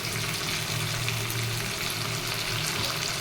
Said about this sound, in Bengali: টমেটো দিয়ে আমি আবারও খুব ভালো করে এটা ভেজে দেবো টমেটোকে